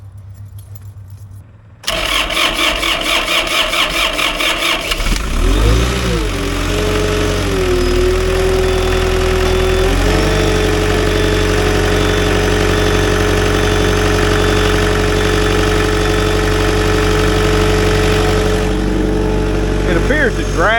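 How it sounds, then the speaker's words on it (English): Keys jangle, then a skid steer engine cranks over on a new starter, catches and settles into a loud, steady idle up close, with some talking in the background. "We're going to see how it cranks."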